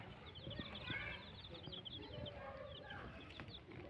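Young chicks drinking from a water dish set out for them, with a busy run of soft peeping and clucking from several birds close by and some quiet talk.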